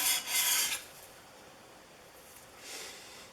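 A plane iron rubbed flat on 150 grit abrasive makes a soft, close scraping rasp in two short bursts with quiet hiss between them.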